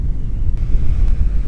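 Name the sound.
strong wind by a lake in the Andes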